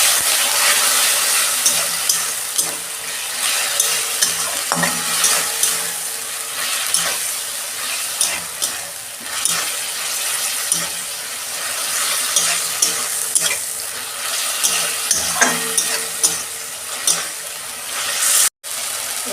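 Spiced masala for a home-style monkfish curry is sautéed in a pan, a continuous sizzle broken by scraping stirs and small clinks, steady and close for the whole stretch, with a short cut near the end.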